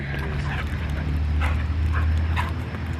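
A dog whimpers in a few short, high whines, close by over a steady low background rumble, with no talking.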